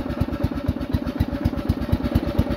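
A Husqvarna LT112 riding mower engine pulls away in fifth gear at low revs, chugging in an even, rapid pulse of low thumps, close and moderately loud with no talking.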